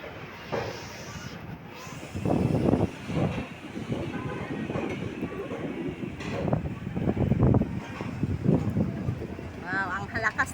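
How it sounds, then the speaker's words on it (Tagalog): Strong typhoon wind at a market in Sham Shui Po, Hong Kong, buffets the microphone in loud, rumbling gusts, with people talking underneath. "Wow, ang halakas ng hangin."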